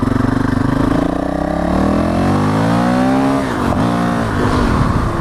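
A Honda CRF 450L motorcycle fitted with an FMF Q4 exhaust revs repeatedly, the pitch climbing steadily then dropping and blipping again, loud and close with no talk.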